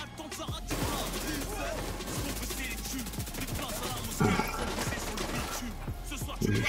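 Rapid gunfire from a Backfire exotic weapon in The Division 2, a dense rattling stream of shots that runs almost without pause, with a couple of louder bursts near the end.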